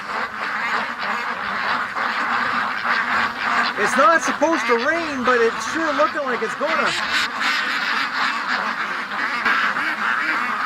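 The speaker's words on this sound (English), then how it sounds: "the more the ducks are getting agitated" Agitated ducks quack in a noisy cluster on a windy day, the calls close and rising in the middle before easing, while wind rushes steadily behind them and someone talks over them.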